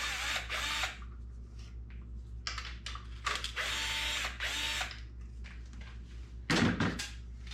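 A ratchet is backing out 8 mm bolts from the airbox cover on a two-stroke Husqvarna string trimmer. Close bursts of quick clicking come in several separate runs with brief pauses between them, and a louder clunk sounds near the end.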